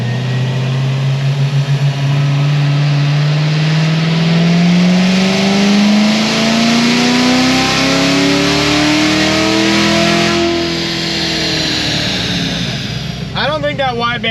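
A supercharged LT4 V8 running on straight pump gas revs hard under boost, its loud drone climbing steadily in pitch over about ten seconds before backing off, with an intake whine over the top and no talk.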